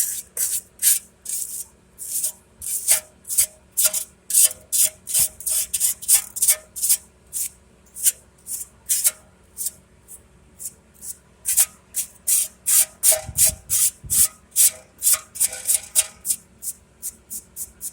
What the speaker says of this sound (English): Hit it with a wire brush.